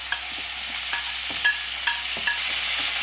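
Finely chopped onions fry in a pan for onion rice, giving a strong, even hiss with light scrapes and taps of stirring scattered through, and nobody speaks.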